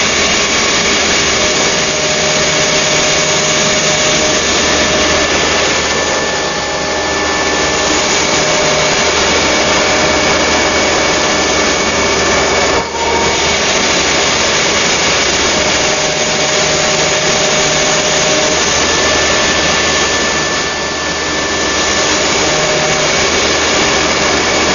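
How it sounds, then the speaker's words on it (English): An Elrod Route 66 Compu Cut machine with a Centroid M39 controller making passes with a cutter, a loud, steady mechanical whine and hum with faint swells, running on and on without talking. "We're making 3 passes with this cutter."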